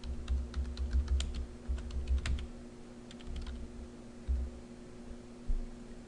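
Rapid typing on a computer keyboard, a steady run of close, crisp key clicks over a low electrical hum, with short pauses between bursts.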